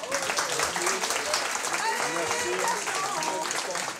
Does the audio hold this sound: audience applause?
yes